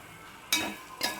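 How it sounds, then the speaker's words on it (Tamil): Two bursts of sizzling as beaten egg hits a hot pan of frying food for egg rice, each hiss sharp at first and then settling, close by with no talk. "இப்போ இந்த முட்டையை வந்து இதோட ஊற்றிக்கலாம்"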